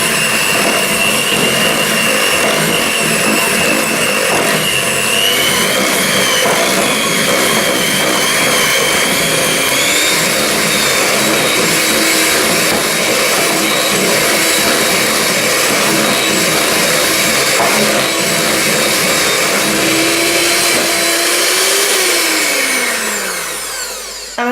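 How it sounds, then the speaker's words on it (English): An electric whisk whirs steadily through cupcake frosting in a bowl, a loud, continuous close-up motor whine that holds for about twenty seconds before spinning down at the end. "So I'm going to whisk this through"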